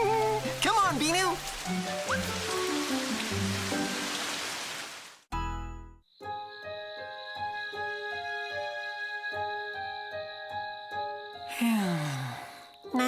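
Cartoon rain in the children's series Toopy & Binoo: a dense, steady hiss of falling drops for about five seconds, layered with lighter playful sounds, before it cuts off and gentle music takes over.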